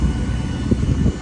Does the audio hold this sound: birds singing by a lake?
no